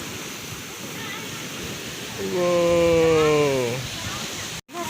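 Ocean waves at White Sand Beach Resort in Manay roar as a steady, full wash of surf throughout, while a nearby voice gives a drawn-out exclamation over it midway.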